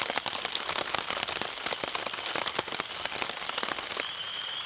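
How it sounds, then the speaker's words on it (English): Steady rain patters on a camping shelter overhead during a solo overnight in the woods, a dense, continuous hiss of close drops with sharper individual taps, no voices. "Well, as promised, there's the rain."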